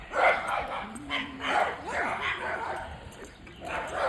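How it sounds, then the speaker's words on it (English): A pack of little dogs yapping and barking outdoors, high overlapping yips and whimpers in quick irregular bursts, fairly close, with a person talking in between. "they got a whole pack of little tiny dogs over here"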